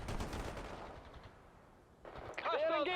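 Battlefield gunfire from the World in Conflict strategy game, heavy booming shots rumbling at the start and fading away, followed by a voice calling out over the din.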